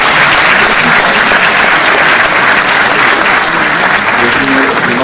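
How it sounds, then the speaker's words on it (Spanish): Loud, dense applause from a school music contest audience cheering a winning band, steady and unbroken throughout with no talk over it. "Fuertes aplausos para ellos."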